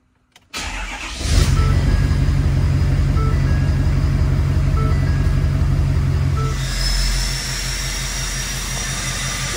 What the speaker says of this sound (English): Y'all hear that turbo?